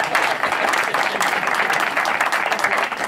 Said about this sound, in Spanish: ¡Un aplauso a mi padre!